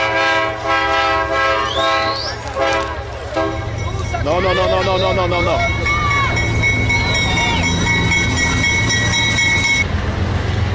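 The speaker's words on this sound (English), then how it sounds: "This is a train carrying cars," A freight train loaded with cars rolls past nearby with steady rumbling and clatter while its horn sounds in long tones; a voice speaks over it.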